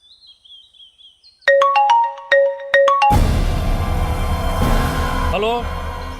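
A mobile phone rings in a Tamil thriller film scene: a faint chirp, then a loud run of melodic electronic ringtone notes, cut off by a dense wash of noise with a few sweeping tones near the end.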